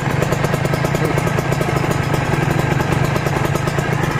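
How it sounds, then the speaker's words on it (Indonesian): A Kawasaki Ninja motorcycle idles smoothly and steadily, with a close, even engine note and light mechanical clatter running through the whole stretch, with no talking. "Hidup idle, halus banget, kalian dengarkan suaranya."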